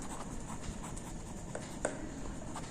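Marker or chalk scratching out the magnesium oxide equation on a board, a steady faint scraping with small taps, under a constant background hiss.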